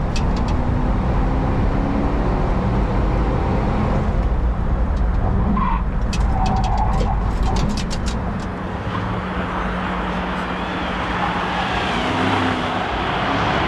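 A Porsche Cayenne HDT lapping a race track, its engine droning steadily through a corner from inside the cabin, with brief tyre and suspension rattles as the whole car bounces slightly. No talk is heard.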